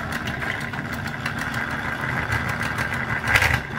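A small engine fitted with a 3D-printed turbocharger runs steadily, a loud continuous mechanical whine and hum with a brief surge near the end, no voices.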